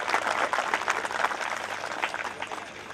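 Loud applause from an audience at a public gathering, a dense, continuous patter of clapping that holds steady for a few seconds.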